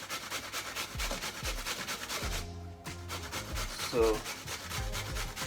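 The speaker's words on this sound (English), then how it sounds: "So we'll just grate the carrot." Carrots rubbed against a hand grater while preparing Jamaican seasoned rice, a steady rhythmic scraping that continues close by with a brief pause midway; a voice speaks briefly at the start.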